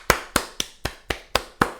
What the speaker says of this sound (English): I need to clap for this